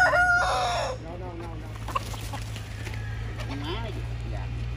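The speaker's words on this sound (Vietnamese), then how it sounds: "buổi chiều nè mấy con gà này nè tụ về quá trời luôn nè" Chickens gather at a backyard flock in the afternoon, clucking and crowing nearby, with a loud crow at the start and scattered clucks after it, while someone talks over them.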